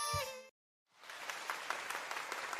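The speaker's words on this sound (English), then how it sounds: "Holmes and Watson were greeted upon reaching the center stage with applause." Video game audio: a brief musical tone cuts to silence, then a crowd greets performers on stage with steady, sustained applause of many hands clapping.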